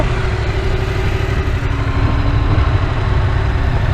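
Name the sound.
motorcycle engine being throttled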